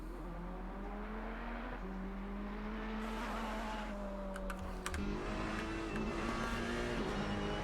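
A race car engine drones and shifts pitch as the car runs over a curb and into gravel in a racing video game, with a steady mid-level motor hum, gear changes and a brief rattle partway through.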